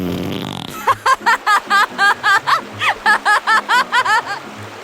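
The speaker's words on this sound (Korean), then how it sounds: "이번에는 방귀쟁이 아줌마가 방귀를 뀌었어요" Cartoon fart sound effect from a children's folk tale about a farting contest: a loud, rapid run of about a dozen squeaky, bouncing toots with no talking.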